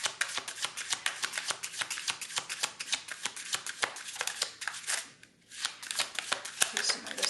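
A deck of tarot cards is shuffled close by, giving repeated soft riffling bursts with a brief pause partway through, quiet overall and without speech.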